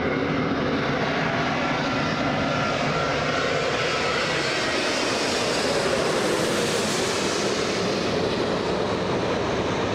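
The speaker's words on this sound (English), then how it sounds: "There goes the ITA touchdown." An ITA airliner touching down on runway 24 left at Los Angeles International Airport, a loud broad continuous jet roar that swells gently and stays close throughout.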